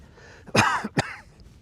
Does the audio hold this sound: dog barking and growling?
no